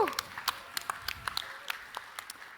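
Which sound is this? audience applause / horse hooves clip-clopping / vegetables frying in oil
audience applause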